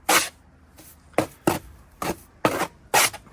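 Mortar rolled on a board with a bricklaying trowel: six short rasping scrapes in an uneven rhythm, fairly close and clear, with quiet gaps between strokes and no talking.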